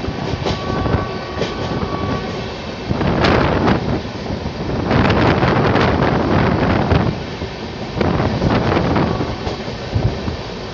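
Malda–Delhi Farakka Express rumbling along at speed, carriages rattling and clattering in rolling surges with wind buffeting the microphone throughout, loud and continuous with no voices.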